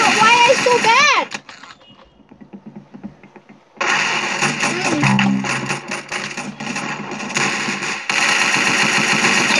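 Gunfire from a burst weapon and a shotgun in a video game, rapid bursts of shots in loud dense stretches broken by a quieter gap, with a player talking excitedly in between.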